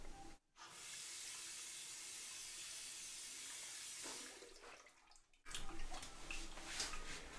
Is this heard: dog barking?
no